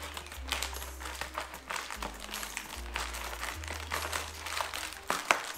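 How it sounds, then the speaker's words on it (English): Close, steady crinkling and rustling of plastic packaging around a Tonor TC-777 condenser microphone being handled and pulled open, with a low hum underneath and no voices. "We're gonna open this package."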